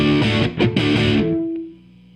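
An electric guitar played on its neck pickup through a stereo chorus setup rings out with a full, warm chord strum, then decays into a fading sustain.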